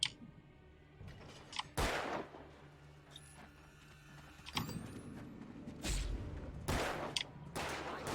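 Gunfire in the Alan Wake video game comes as a few sharp, broadband bursts spread through a quiet stretch, with faint clicks and low background hum between the shots.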